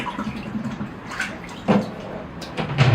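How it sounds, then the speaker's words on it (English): Water rinses soap off a pruned Serissa bonsai tree, a close splashing spray with irregular bursts and gurgles over a few seconds, nobody speaking. "rinsing all the soap off the tree"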